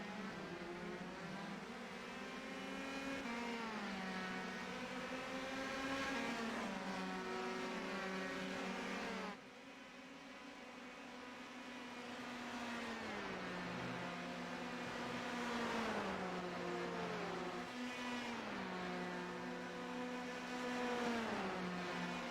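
Race cars in a racing video game head into turn 1 at the Belgian Grand Prix, engines droning steadily with pitch rising and falling through gear changes, a brief dip midway, no voices.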